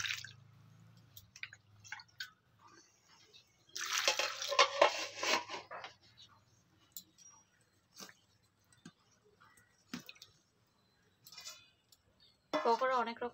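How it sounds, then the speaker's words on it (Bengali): Capsicums being rinsed in a bowl of water in a home kitchen, with intermittent splashing, dripping and sloshing bursts, a louder stretch of water movement midway, and light clinks of the bowl between quieter moments. "তো এইগুলো আমি একটা পাত্রে নিয়ে প্রথমে ধুয়ে নেব।"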